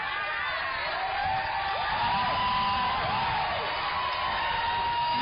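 Hecklers at a Bill Clinton speech scream and shout continuously, with high whoops and overlapping voices rising in a loud, sustained din.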